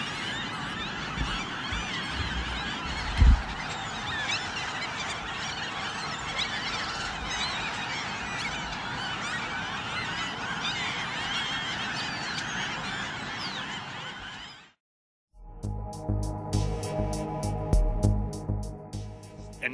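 A large flock of Franklin's gulls calls in a dense, continuous chorus of overlapping squealing cries on a beach, broken by a brief pause, then louder, nearer bursts of calling.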